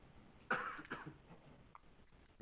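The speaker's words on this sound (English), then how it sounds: "You're both coughing." Two close, sharp coughs and some throat clearing break the quiet of a public meeting room, followed by faint rustling and low room noise.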